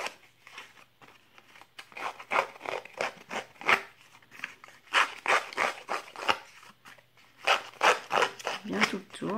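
Scissors snip through printed paper up close in a series of crisp, irregular cuts with short pauses between bursts.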